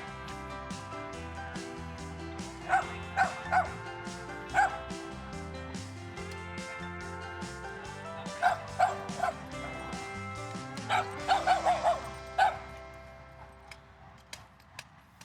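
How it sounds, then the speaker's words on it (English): A small dog barks in short bursts of two to four yips, separated by pauses, fairly close and moderately loud. "Now he's starting to bark again."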